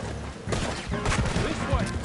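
Gunfire in Red Dead Redemption 2 rings out as several overlapping shots and rapid bursts, close and sharp, with voices mixed in among the volleys.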